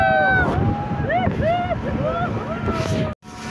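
Boat ride on the open sea off Juhu beach in Mumbai, with steady engine and wind rumble and splashing water, while people's voices and whoops carry over the top, ending in a brief dropout.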